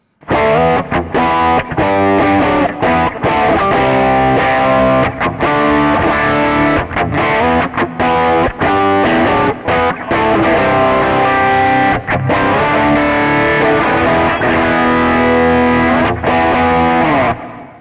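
Crunchy overdriven electric guitar through a Klon overdrive pedal, playing chords and riffs, loud and continuous with brief pauses between strums.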